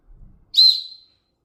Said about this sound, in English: Also on the headband, which is quite useful actually, is the fact that both of them have got a whistle.